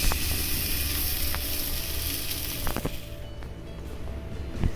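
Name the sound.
paratha sizzling as it is dropped into a preheated cooker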